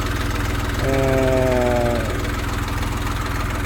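A DongFeng DF 244 LUX mini tractor engine runs steadily nearby with a low rhythmic chug, a brief harmonic whine rising over it midway before settling back to the idle drone.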